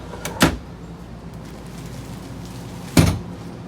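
Two short, sharp knocks about two and a half seconds apart as a storage drawer under the bed of a 2021 Forest River Rockwood Ultra Lite 2606WS travel trailer opens or shuts, close up over a quiet background.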